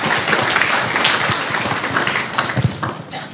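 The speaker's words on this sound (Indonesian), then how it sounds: "Beri tepuk tangan dulu ini." An audience at a talk by Rocky Gerung bursts into applause, a dense, loud wash of many hands clapping that sustains steadily for a few seconds before thinning slightly at the end.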